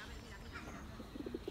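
Pigeons coo softly at the end, a few short low hoots in quick succession, faint and outdoors beneath a background hum.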